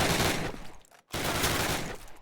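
Thompson submachine gun fire in Call of Duty, a dense rapid burst of automatic shots, a brief gap, then another sustained burst, loud and close with no talk.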